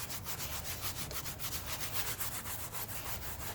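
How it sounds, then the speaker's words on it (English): Microfiber brush scrubbing a full-size engine during detailing, a steady close rhythm of brisk rubbing strokes running continuously without any voices. "So then I'm just going to take my microfiber brush."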